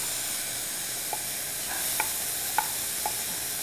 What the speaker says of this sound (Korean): 마늘을 넣어 주시고요.